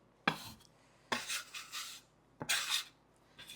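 A small dough scraper drags across a board scraping up buttermilk biscuit dough, giving three distinct close raspy scrapes spaced over a few seconds, with a softer fourth at the end.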